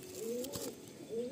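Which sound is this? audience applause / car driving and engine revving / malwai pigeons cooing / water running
malwai pigeons cooing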